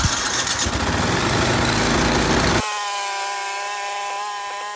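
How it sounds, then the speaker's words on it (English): A snow blower engine runs loud and raspy at first, then drops abruptly to a steadier, smoother droning idle with a distinct humming tone for the remaining seconds. "Time to get the snow blower out."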